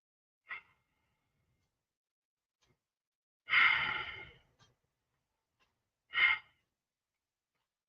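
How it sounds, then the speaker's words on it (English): Three deep breaths taken one after another during a morning exercise routine, each a distinct airy inhale or exhale with long quiet gaps between, the middle breath longest and fullest, close and clear. "Let us take 3 deep breaths before we go to the next one."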